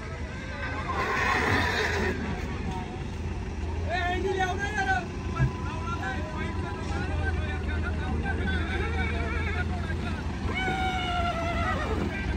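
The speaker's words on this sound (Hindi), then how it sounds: "भैया घोड़ा है ग्रे, पिकअप में लोड हो रहा है।" Horses whinny repeatedly at a horse fair in Ganganagar, with several wavering calls rising over a busy outdoor background of engine rumble and people talking nearby.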